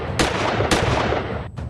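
Two sharp, loud gunshot blasts about half a second apart, each followed by a decaying boom, with a third report starting at the end, used as a sound effect in a news report on a shooting in Pune.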